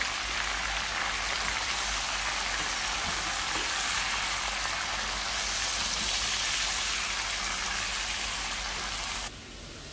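Onion sizzles in a hot pan while being stirred, a dense, continuous frying crackle that stays loud and close, then drops slightly near the end.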